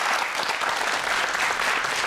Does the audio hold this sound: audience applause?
yes